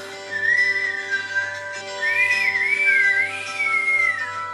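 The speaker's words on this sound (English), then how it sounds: "Can't whistle that good, but I could a little bit." A person whistles a wavering, sliding melody that drifts up and down in pitch, clear and steady, with a sustained musical backdrop of tones running underneath, with no talk.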